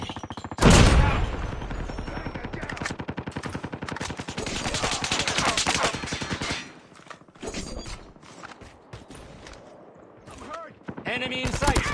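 Sniper and assault rifle fire in Call of Duty Mobile Hardpoint and Search and Destroy matches, dense rapid bursts of gunshots close and loud, then sparser shots and bursts after a brief lull; voices are heard at times.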